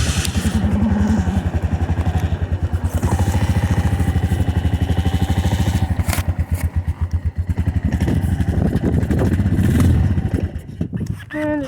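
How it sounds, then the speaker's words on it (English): A four-wheeler's engine cold-starts in freezing weather on choke, chugging in a rapid, uneven loud rhythm as the throttle is worked, then sputtering and fading near the end. "Gonna put some choke on. I'm gonna run the throttle a little bit."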